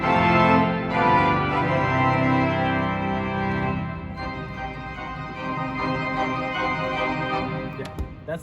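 Church pipe organ at All Saints Catholic Church playing the full swell division with strings, vox humana and octave couplers, a dense sustained chord held loudly for several seconds before fading and releasing.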